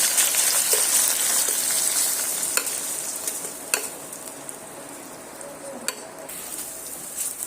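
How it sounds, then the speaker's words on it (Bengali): Ground paste of onion, ginger, garlic and green chili sizzles steadily in hot oil in a pan, a continuous hiss with occasional clicks of stirring, close and fairly loud with no talk. "বেটে রাখা মশলাগুলো পেঁয়াজ আদা রসুন আর নিয়েছি কাঁচা লঙ্কা এবার আমি তেলের মধ্যে দিয়ে দেব"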